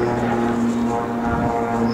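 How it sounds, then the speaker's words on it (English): A Pitts aerobatic biplane at an airshow falls back through its own smoke while its propeller drones steadily in a loud, continuous hum, heard alongside a commentator's speech. "the aircraft nearly hanging on the propeller as it falls back down through its own smoke"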